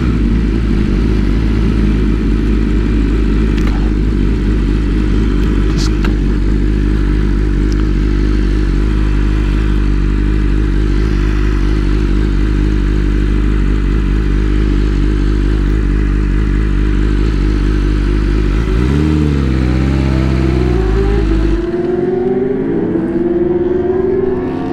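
A BMW M1000RR superbike engine screams at sustained high revs through a long racing pull, loud and continuous, then gears shift with falling and rising pitch sweeps near the end.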